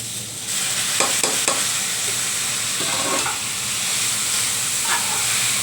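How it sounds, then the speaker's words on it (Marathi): Chopped fenugreek greens (methi bhaji) sizzling steadily in a hot pan, a loud, constant hiss with a few scattered scraping stirs of a utensil against the pan, close up and without speech. "आता यात भाजी घालून घेऊया"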